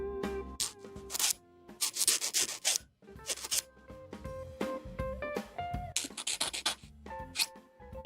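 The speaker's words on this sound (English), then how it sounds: "Trying to get the nubs off this antenna." A small plastic model kit antenna, a 1/72 Kotobukiya Patlabor part, is scraped and sanded to remove nubs in quick, close rubbing strokes. Busy music with plucked tones plays prominently over the scraping.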